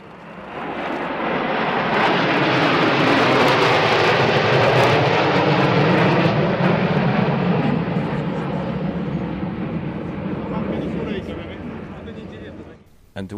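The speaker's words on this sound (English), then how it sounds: "And four Su-34 fighter bombers." Four Su-34 fighter bombers thunder past in a flypast at the Zhukovsky Russian Air Force centenary air show, a loud sustained jet roar that swells over the first seconds and slowly fades as they move away.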